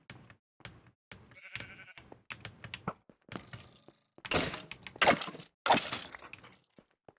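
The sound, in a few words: sheep bleating in a video game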